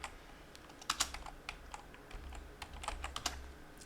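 Keys clatter in quick, uneven bursts on a computer keyboard while someone types a domain name to buy, close and fairly quiet, with no voices.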